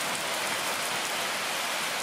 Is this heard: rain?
yes